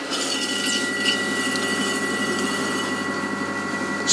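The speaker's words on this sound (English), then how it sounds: "Bit of water on, now we can start to slow our wheel down a touch." A potter's wheel spins steadily while clay cups are thrown on it, giving a continuous, fairly loud whirring hum with wet rubbing texture as the wheel slows slightly.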